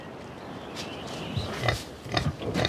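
Pigs on an organic farm grunting and snuffling close by, a few short bursts growing louder toward the end over a soft outdoor background.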